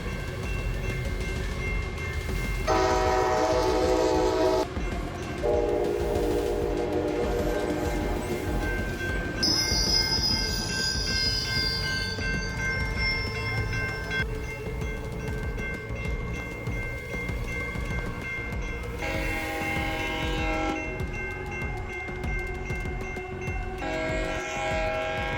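A Coaster train's horn, given a steam-engine-style tone, blares in repeated long, loud blasts over the rumble and clatter of the passing train.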